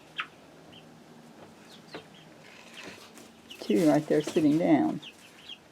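A chicken on a roost gives a loud, drawn-out cackling call nearby after quieter background noise, with a person speaking briefly earlier.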